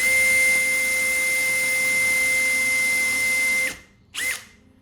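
A power drill set to a lower torque bores a hole, a loud steady high-pitched whine that drops away abruptly, then revs briefly once more before stopping.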